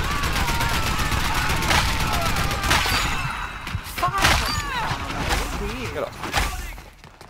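Rapid gunfire bursts and impacts from the online shooter game Dirty Bomb, dense and loud throughout with sharp shot transients, while someone talks over the action.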